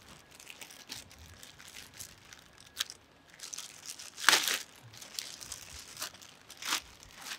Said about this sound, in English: Get this plastic off